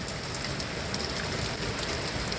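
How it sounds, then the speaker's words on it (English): Heavy rain pours steadily onto an off-grid houseboat during a storm, a dense, constant hiss and patter with no break and no voices. "the rain has picked up drastically."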